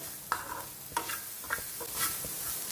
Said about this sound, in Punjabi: ਇਹਨਾਂ ਸਾਰੇ ਮਸਾਲਿਆਂ ਨੂੰ ਚੰਗੀ ਤਰ੍ਹਾਂ ਮਿਕਸ ਕਰ ਲੈਣਾ